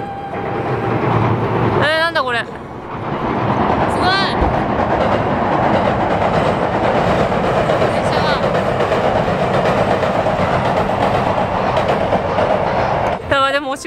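A noisy train passes close by with a loud, continuous rumble and rail clatter that lasts the whole stretch, with brief high squeals, and voices are heard faintly at times.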